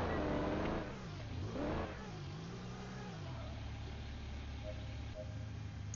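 A 2020 Audi A7 engine in the video game Real Car Parking 2 revs up and down with rising and falling pitch, then settles into a steady mid-range hum, close and fairly loud.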